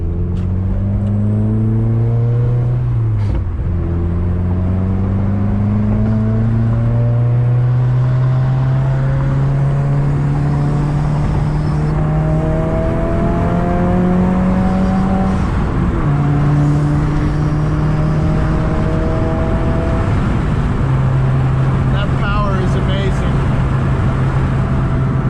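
A tuned 2015 Subaru WRX with the FA20DIT turbo engine pulls through the gears, its loud, close droning note climbing steadily in pitch and dropping at each shift, repeated several times with faint voice underneath.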